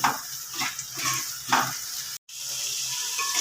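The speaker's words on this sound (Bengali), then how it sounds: "মশলাটা ভাজা হয়ে সুন্দর তেল ছেড়ে দিয়েছে" A ground paste of spices, ginger and tomato sizzles in hot oil in a pan, a steady frying hiss with a few louder stirring surges and a brief cut.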